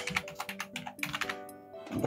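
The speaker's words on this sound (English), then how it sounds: "So let's type this." Quick, close keystrokes on a computer keyboard, several taps in an uneven run with a brief pause near the end.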